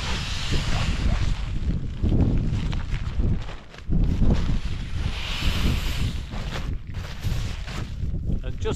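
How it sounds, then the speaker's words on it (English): Steady gusting wind roars and buffets outdoors on a freezing mountain campsite while air is caught in a sleeping mat pump sack, a continuous loud rushing with rising and falling surges. "It's a lot easier when you've got the wind blowing into your pump sack."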